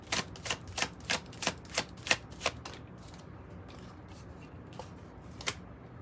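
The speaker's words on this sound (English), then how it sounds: "So let's pull some oracle cards here" Oracle cards are shuffled and pulled, with a rapid run of about ten crisp riffling snaps followed by a few softer, scattered card flicks, close and alone.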